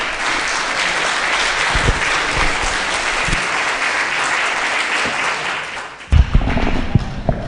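An audience at a Spanish-language conference breaks into sustained loud applause, a dense wash of clapping that runs throughout, ending with a few louder close claps near the end.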